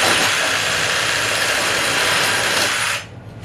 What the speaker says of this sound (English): I'm just gonna go ahead and get the jigsaw and cut the tip off.